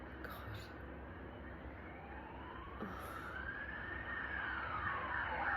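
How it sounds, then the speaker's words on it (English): A police siren wails in the distance, its pitch sweeping slowly up and down and growing gradually louder over a low background hum. "Police sound, sirens."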